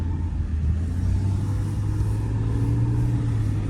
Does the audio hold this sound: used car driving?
yes